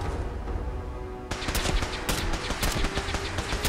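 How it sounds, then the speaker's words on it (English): Rapid gunfire in the Fallout 4 video game is aimed at the player, with dense bursts of shots packed together after a quieter start, moderately loud and steady without talk. "Just gonna shoot at me like a dumbass ghoul."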